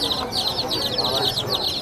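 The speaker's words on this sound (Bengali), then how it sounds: "মুরগির বাচ্চা আনা হয়েছে" Baby chickens are brought for sale at the busy Mirpur 1 bird market. Their rapid, repeated high peeping runs throughout the clip, close by and mixed with people talking.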